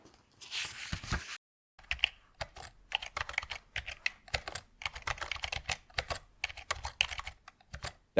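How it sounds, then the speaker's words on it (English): Computer keyboard typing in bursts of crisp, close keystrokes, one short pause early on and then rapid, uneven clicking that carries on to the end without talk. "but let me hear this keyboard sing"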